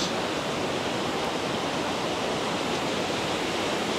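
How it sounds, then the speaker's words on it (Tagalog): Waterfall at Cat Cat Village in Sapa, Vietnam, heard as a loud, continuous broadband rush of falling water that holds steady throughout with no other sounds. "dito yung waterfalls"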